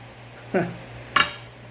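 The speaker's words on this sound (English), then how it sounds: "Gotta tighten that nut." Two sharp metallic clinks ring out about half a second apart, close and clear, as a nut on a cheap Tsunami fishing reel is tightened.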